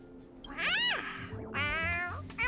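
A small creature in Honkai: Star Rail gives two drawn-out, cat-like meows, the first rising and falling, the second longer and brighter, close and clear with nothing else over them.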